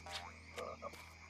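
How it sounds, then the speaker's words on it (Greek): A cartoon frog named Peter lets out a few quick, bright croaks close up, each a short warbling burst over a faint steady background hum. "Δεν είναι πράγμα, είναι βάτραχος και το όνομά του είναι Πίτερ."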